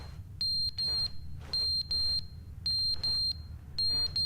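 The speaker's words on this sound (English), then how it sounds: "This beeping's annoying though." Repeated electronic alarm beeping in the video game The Stanley Parable, sharp high bursts in paired groups with short gaps between, loud and steady over a low background hum, no talk.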